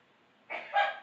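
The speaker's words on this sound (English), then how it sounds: "My mom sneezed on that." A single quick sneeze, short and breathy in two parts, close by against near silence.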